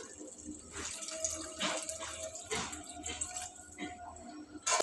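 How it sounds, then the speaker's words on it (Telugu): Water poured into a pot of simmering chicken curry, a steady close splashing stream lasting several seconds with uneven surges and gurgles. "ఇప్పుడు మనం సరిపోయేంత నీళ్ళు పోసుకోవాలి."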